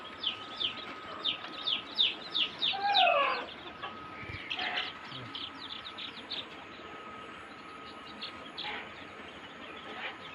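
Deshi poultry chicks chirp during a Ranikhet vaccination, with a burst of rapid high peeps early on that thins to sparse calls over a steady background hum, no talk.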